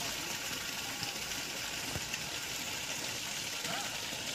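Well water gushing under good pressure from an electric motor pump set about 35 feet down a well, a dense continuous rushing torrent, loud and steady, with a voice faintly underneath.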